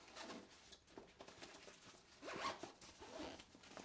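A zipper is pulled shut on a Fjällräven Ulvö 23 bag in several quick, scratchy strokes. It is close and quiet, with no voices.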